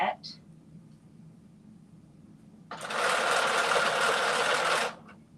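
A sewing machine stitches fabric flat in one steady, loud burst of about two seconds, preceded by a quiet pause and a brief soft sound at the start.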